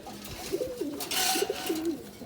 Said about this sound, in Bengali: তার পাশাপাশি আবার কিছু কবুতর দেখাবো,